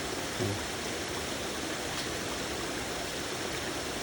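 Weak trickle of water flowing from an underground tunnel, a steady broadband wash of running water heard close and alone with no talking.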